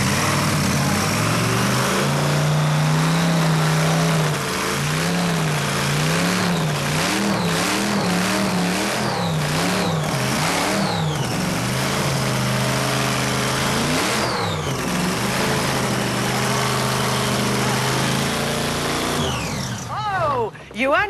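A drag racing car's engine idles with a lumpy, loud throb and then revs repeatedly in rising and falling surges, very close and sustained throughout.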